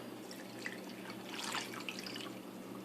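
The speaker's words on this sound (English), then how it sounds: "Fill this can up with water." Water runs from a tap into a can, a soft, steady splashing trickle with faint drips, quiet and close with no talk over it.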